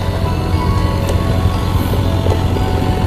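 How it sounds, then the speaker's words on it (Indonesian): Engine running at a Pertamina oil field site, a steady low rumbling drone that holds loud and constant throughout with no speech. "Ini mesinnya, terdengar suara mesin."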